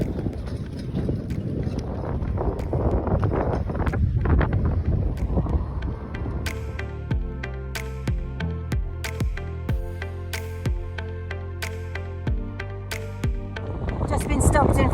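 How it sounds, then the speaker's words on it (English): Strong wind gusting across a beach and buffeting the microphone, a loud steady rumble that later gives way to a series of sharp clicking taps before the wind rises again at the end. "The wind has changed. It's a crosswind now."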